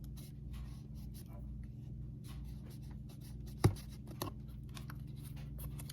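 Scissors snip through a foam GoPro float in a few brief, sharp cuts over a steady low hum, with quiet handling in between.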